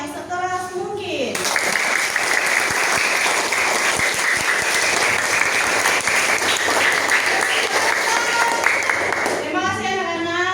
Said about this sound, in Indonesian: Kalau kalian merasa senang, maka tepuk tanganlah yang sekeras mungkin